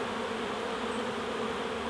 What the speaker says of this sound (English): just look at the bees going in and out of Queen Jasmine's hive on the right there